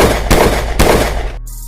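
Three or four loud gunshots in quick succession fired point-blank into a man's chest in a Hindi film scene, sharp bursts over a music bed that drops to a low hum at the end.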